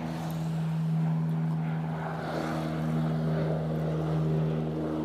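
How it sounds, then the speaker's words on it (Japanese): A Self-Defense Force aircraft approaches to land in Okinawa, its engine a loud steady droning hum with strong tonal whine that holds throughout, swelling slightly as it draws nearer. "結構着陸の瞬間って結構ああやって近づいてくると飛行機の音もでかいんですよね"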